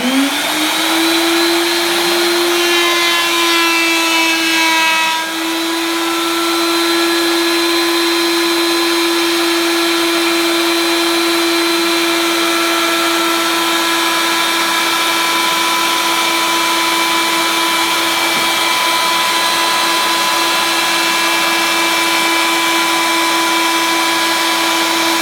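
A shop vacuum runs steadily and loud throughout as a power tool, apparently a router, spins up with a rising whine and then holds a constant high pitch while easing into a mirror-matched seam in a solid surface countertop.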